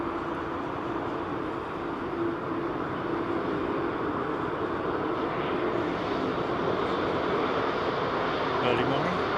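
An airliner at London Heathrow Airport gives a steady, fairly faint engine roar that holds evenly throughout, with a broad rushing rumble and no distinct events.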